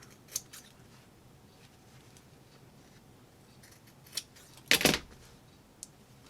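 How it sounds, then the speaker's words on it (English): Fabric scissors trimming the corners of a sewn fabric pencil holder bookmark: a few crisp, close snips spread over several seconds, with one louder double cut in the middle, and no talking. "I'm going to take my fabric scissors and I'm going to trim my corners"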